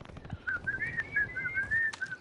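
A person whistles a wavering, sustained melodic tone in short phrases for about two seconds, fairly close and moderately loud over faint background noise, with no talk.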